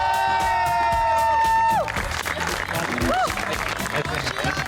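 A comedy stage show audience claps and cheers to welcome performers Murtaza and Mustafa Chaudhry. Steady, fairly loud crowd noise with scattered whoops follows a closing musical chord, and voices carry over the applause.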